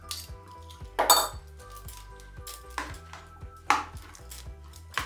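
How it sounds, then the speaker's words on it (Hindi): Spoon scraping and clinking against a bowl as vegetables are mixed with burger mayonnaise for a veg mayo grilled sandwich, with several sharp clatters over a steady low background hum, no talking. "ये सारी चीज़ों को हम अच्छे से कर लेंगे मिक्स"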